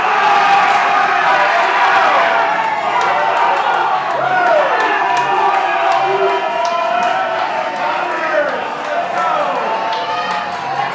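Bar crowd cheering and shouting while watching a soccer game, a dense wall of many voices with whoops and yells rising and falling, loud and steady throughout.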